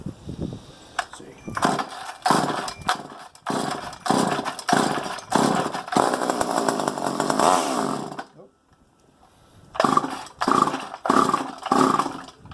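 A Poulan 2000 chainsaw engine runs loud and close in rough revving bursts, dropping out briefly before roaring back up again, with no talking over it.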